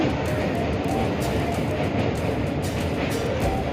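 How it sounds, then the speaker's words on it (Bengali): A passenger train in motion, heard from inside a carriage as a dense, steady rumble and rattle throughout. "আবার ট্রেন রওনা দেবে এক্ষুনি"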